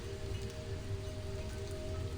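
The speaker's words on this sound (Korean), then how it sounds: "갑자기 비가 오살나게 오는데?" Heavy rain pours steadily in a video game, a dense continuous hiss with a low rumble that holds at an even level throughout, with no voices over it.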